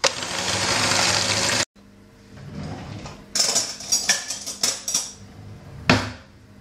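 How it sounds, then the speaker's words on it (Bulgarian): Electric hand mixer whipping six eggs with 250 grams of sugar until pale, a loud steady whir for over a second, then stops, followed by bowl clatter and clinks close by. "Разбиваме с миксера до побеляване."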